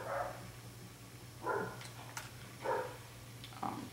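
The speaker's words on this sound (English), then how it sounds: "My dog's barking at us." A pet dog barks three or four times at a moderate distance, short spaced woofs over a steady low electrical hum indoors.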